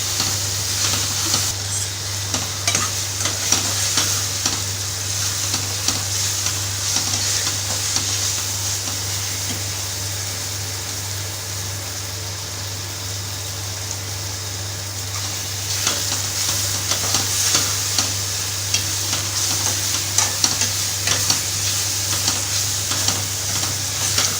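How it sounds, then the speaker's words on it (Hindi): Green chilies frying in a hot pan, a continuous close sizzle with stirring and scraping that runs steadily the whole time and swells slightly toward the end. "अब हम इसके अंदर हरी मिर्ची शामिल कर देंगे और इसे अच्छी तरह भून लेंगे।"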